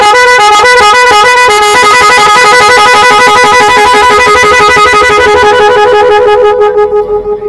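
An uncommon aftermarket horn fitted to a motorcycle plays a loud, continuous melodic sequence of shifting electronic tones for about seven seconds, ending in a pulsing fade. It sounds close and very strong, with no voices.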